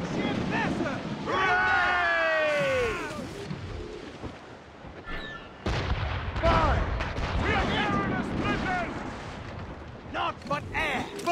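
Ship cannons boom during a naval battle in Assassin's Creed Rogue, with heavy blasts and rumbling impacts mixed under constant shouted voices and other chatter.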